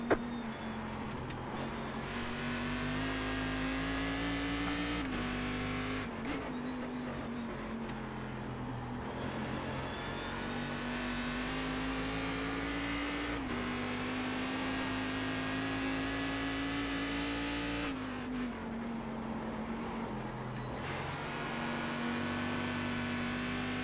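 A Cadillac CTS-V.R race car engine in iRacing at Zolder drones steadily at high revs, pitch briefly dipping and climbing again with quick short shifts, continuous and fairly quiet throughout.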